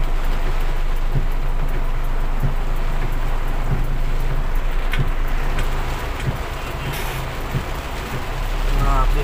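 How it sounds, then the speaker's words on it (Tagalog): Heavy typhoon rain on Roxas Boulevard by Manila Bay pours down in a dense, steady hiss, with occasional sharper drops and a low rumble of wind or traffic underneath. "Galit na galit ang ulan."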